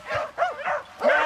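A pack of working hunting dogs yelps and bays in thick bramble cover, several short barks and whines overlapping at middle distance with no talk.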